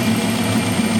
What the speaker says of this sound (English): and then I take and energize the air pump like I've been doing, and I make it run